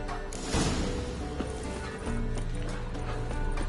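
Horse hooves clip-clopping on the ground in The Witcher 3, a steady close rhythm of hoof strikes with some clattering and a brief whinny, over game ambience.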